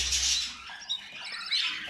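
Several birds squawk and chirp in short, raspy calls close by, with a few sharper peeps breaking through.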